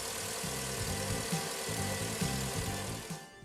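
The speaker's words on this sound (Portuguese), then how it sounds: "Deixe o motor funcionando até que o ventilador seja ativado por 2 vezes." A VW Gol G5 car engine idling, left running until the cooling fan cycles, a steady low rhythmic thrum heard close and fairly quiet, with no talk over it.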